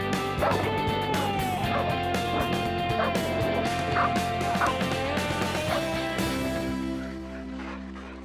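A pack of dogs barks in short bursts at a dog psychology center site, the barks sitting under a steady, loud musical backdrop for most of the stretch before it fades.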